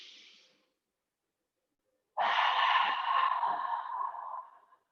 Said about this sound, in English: One more time, cleansing breath.